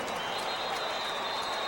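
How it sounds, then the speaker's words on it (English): A football stadium crowd cheers at a Packers at Patriots game, making a steady, distant roar with no breaks over a short stretch. "And the crowd cheering."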